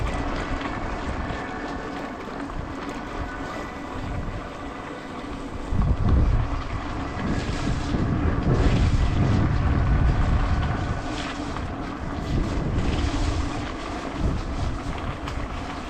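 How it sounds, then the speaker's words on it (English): Strong wind buffets a microphone on a coastal walk along the Viking Way in February between storms, a steady roaring rush that swells into a louder gust midway, no voices. "Got caught by the wind."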